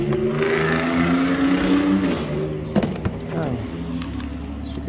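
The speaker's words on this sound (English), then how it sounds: "Freaking truck loud." A loud truck engine runs steadily at close range, with a rising then falling tone and a few sharp knocks partway through.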